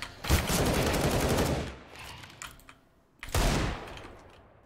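Rapid bursts of gunfire in an online shooter video game, two loud sustained volleys separated by a quieter stretch of scattered shots, close and harsh.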